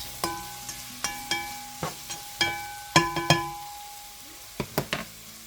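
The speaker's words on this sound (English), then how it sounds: "Let me go ahead and stir this around just a little bit." A spoon scraping and clinking in a frying pan as seasoned ground beef with Creole seasoning, garlic powder and parsley is stirred, a series of sharp, close metallic taps and scrapes at irregular intervals over a faint quiet background, no voices.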